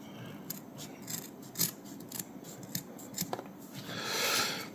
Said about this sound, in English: I'm going to pause while I fetch a pair of scissors.